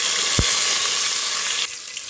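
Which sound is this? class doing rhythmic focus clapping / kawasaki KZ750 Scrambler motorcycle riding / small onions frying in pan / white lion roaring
small onions frying in pan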